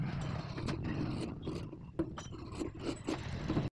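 Scissors snipping through blouse fabric close up, a quiet series of soft, irregular clicking cuts with light rubbing between them, no talking.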